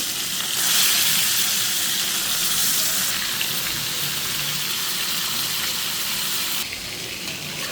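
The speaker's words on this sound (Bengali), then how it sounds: "ওদিক দিয়ে আমি ডালটা কষে এখান দিয়ে মাছটা ভাজি বসাই দিচ্ছি" Katla fish frying in a pan gives a steady, fairly loud hiss and sizzle that holds throughout with a slight drop near the end, and no voices.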